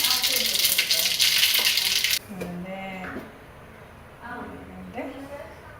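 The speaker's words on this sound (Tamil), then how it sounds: "கடுகு பொறிந்து விட்டது" Mustard seeds splutter in hot oil for beetroot poriyal with a loud, dense crackle for about two seconds, then it cuts off and a voice talks over quiet kitchen background.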